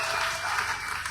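A church congregation applauds during a French-language sermon, a short burst of dense, loud clapping filling the moment.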